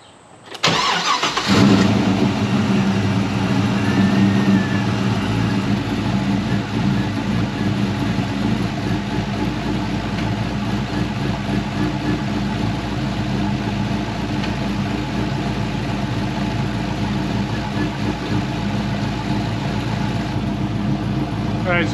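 A Pontiac GTO engine cranks and catches, then settles into a steady, somewhat uneven rough idle while spark plugs are pulled, running on loudly and close for a long stretch.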